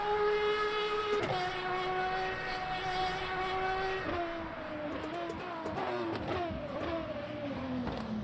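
High-pitched V12 race car engine in a sim racing game revving and shifting gears repeatedly, the whine rising and dropping with each change, loud and continuous.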